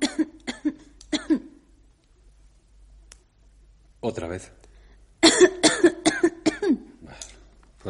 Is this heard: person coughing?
yes